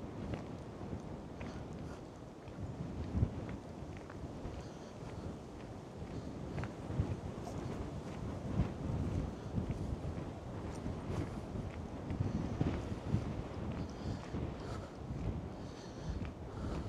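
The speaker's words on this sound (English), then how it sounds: "Just as I talked about the wind dropping, it seems to have come back again." Wind gusting across an open country park in winter, a steady broadband rumble buffeting the microphone throughout, with no talking over it.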